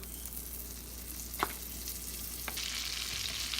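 Butter sizzles and fries around the edges of pancakes in a pan, a steady soft crackle that grows a little brighter toward the end, with a couple of brief utensil taps, close and quiet, with no talking.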